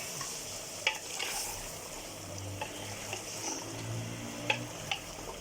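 Marinated chicken is stirred and fried in a pan over medium flame for jalfrezi, with a faint steady sizzle broken by scattered spoon scrapes and light clicks, quiet throughout and with no talking.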